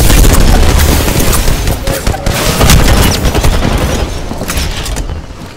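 Grenade blasts and rapid gunfire in Apex Legends, dense and loud, with repeated booming bursts and crackling automatic shots throughout.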